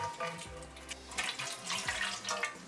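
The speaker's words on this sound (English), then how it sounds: "I'm going to put hot water inside." Hot water poured from a kettle into an air fryer basket for lemon chicken breast, a steady splashing pour with a rising gurgle, fairly close, alone with faint background hum.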